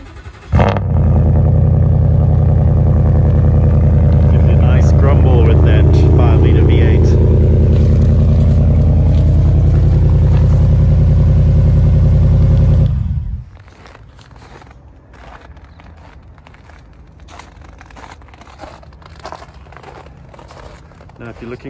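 A 2019 Ford F-150 Lariat Sport pickup with an upgraded exhaust fires up and settles into a loud, deep, rumbling idle for about thirteen seconds before cutting off, leaving quieter background sounds behind.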